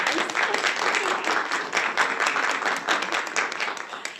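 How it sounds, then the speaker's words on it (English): A public library audience at a Celtic music event applauds the library and a helper named Nick, a steady burst of many hands clapping for about four seconds at moderate loudness. "So let's give them a big round of applause."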